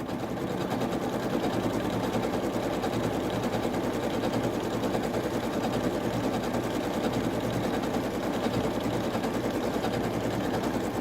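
A Janome sewing machine stitches down the edges of a fabric postcard in one continuous, even whirr, close and steady throughout.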